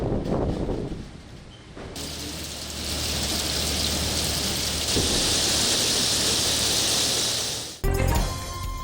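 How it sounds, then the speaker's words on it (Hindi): Torrential rain pours down in Punjab, a dense, loud hiss that swells and holds steady, with a low rumble of thunder underneath before it cuts off abruptly near the end. "पंजाब के मुख्तलिफ शहरों में मूसलाधार बारिश।"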